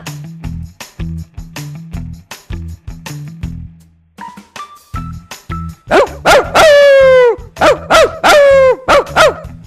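In an animated cartoon, a dog barks in a quick, loud series of woofs early on, then turkey-like gobbling calls burst in, loud and repeated, over more barking.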